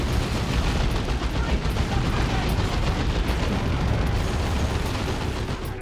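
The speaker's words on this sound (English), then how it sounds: "Here goes some stick bombs from Noisy." Stick bomb explosions in the strategy game Dawn of War II: Retribution, a dense, loud, continuous barrage of booming blasts and crackling bursts with no talking.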